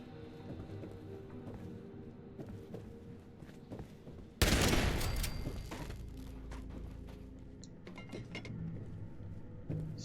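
Gunfire at bots in Fallout 76, one sudden loud blast that rings out and slowly fades over soft clicks and low game noise, with no talking.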